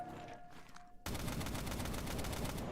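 A USP pistol firing on full auto in a video game, a sudden loud continuous burst of rapid shots that starts after a brief quiet moment and keeps going to the end.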